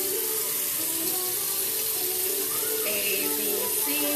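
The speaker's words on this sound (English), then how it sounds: "And I wash baby's hands." Water runs steadily from a sink tap while a baby's hands are washed, a constant close hiss and splash with faint voices in the background.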